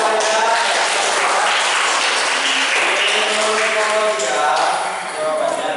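A classroom of pupils applauds in a dense, steady patter of clapping with some voices mixed in, easing slightly near the end.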